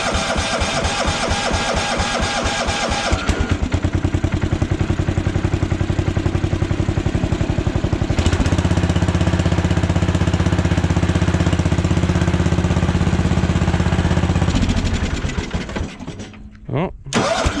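A Bolens 1220 garden tractor engine is cranked on a cold start: a rapid rhythmic starter churn, then the engine catches and runs loud and steady for several seconds before dropping off, with a voice talking briefly.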